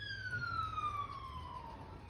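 A single emergency siren wails faintly in the distance, its tone sliding slowly downward over a low background rumble.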